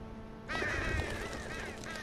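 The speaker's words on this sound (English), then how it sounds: "Fucking crows." Crows caw harshly in The Walking Dead Season 2 game, a few loud rasping calls close by that start abruptly and repeat over a steady ambient hum.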